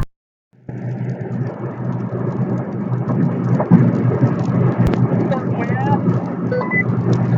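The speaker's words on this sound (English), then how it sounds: "I have a feeling that storm in far north Mississippi is coming." Thunderstorm over far north Mississippi, near Tupelo: steady loud rain with low rumbling thunder that starts after a short silence and runs continuously, with no talk over it.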